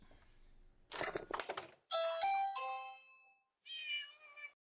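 A cat meows several times in a row, drawn-out and fairly loud, with short quiet gaps between cries and a few dull knocks at the start.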